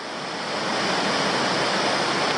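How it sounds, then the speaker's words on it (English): Pelverata Falls, a waterfall in Tasmania, roars from a distance as a dense, continuous wash of falling water that swells slightly at the start and then holds steady. "looking at the Pelverata Falls in the distance"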